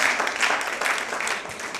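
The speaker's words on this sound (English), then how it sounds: "Give her a big clap." Brief, dense applause rises from an audience at a yoga book launch, a close burst of clapping lasting under two seconds with faint talk underneath.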